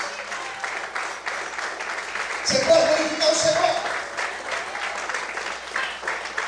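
Church congregation applauding during a Portuguese-language sermon, a steady wash of clapping running under a preacher's voice and swelling briefly midway.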